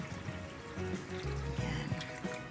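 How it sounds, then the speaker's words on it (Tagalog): Plenty of water pours into a cooking pot for Kapampangan-style pata tim, a continuous splashing, gurgling stream with a steady, fairly close sound. "Lagyan na natin ng madaming tubig."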